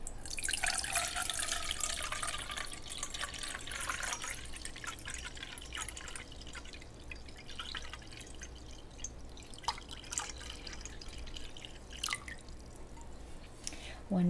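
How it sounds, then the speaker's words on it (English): Water is poured and trickles into a basin during a salon-style shampoo session, a bright splashing stream at first that tapers into scattered drips and small splashes, close and fairly soft. "I'm gonna pour some water in here."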